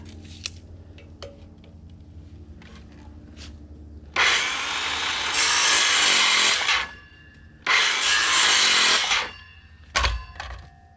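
Wood is sawn into two four-inch pieces in two long, loud, steady bursts with a pause between them. A few quieter clicks and handling knocks come before the cuts and after them.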